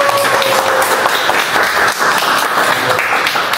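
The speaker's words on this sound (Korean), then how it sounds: "큰 박수 모시겠습니다" An audience claps to welcome a guest lecturer at an arts and humanities seminar on opera, a loud, continuous burst of applause filling the room.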